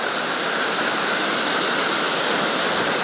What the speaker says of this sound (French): Donc nous sommes devant la cascade du bout.